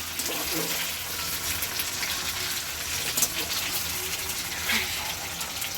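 Chicken pieces for chicken manchurian fry in hot oil, giving a steady, close hiss and crackle that runs throughout with small pops rising now and then.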